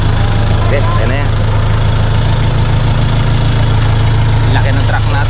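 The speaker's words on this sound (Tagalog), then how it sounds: "Traktora." A farm tractor idles steadily nearby in a rural setting, its low, even engine rumble running continuously throughout, with faint voices speaking over it.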